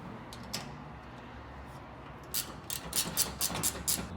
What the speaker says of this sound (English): Ratcheting wrench is really nice for the ones that are close to you